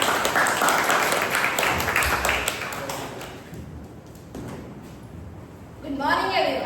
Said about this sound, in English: Please have a huge round of applause for TM Nancy.